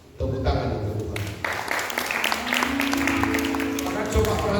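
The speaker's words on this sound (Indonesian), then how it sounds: "Tepuk tangan untuk Tuhan." A church congregation at a Sunday service bursts into sustained applause, a dense wash of clapping that holds steady for several seconds with voices and music mixed in.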